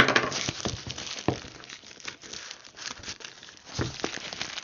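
Crinkling and rustling of plastic packaging being torn open by hand around a new pair of heated motorbike gloves, in close, uneven bursts of crackle and tearing.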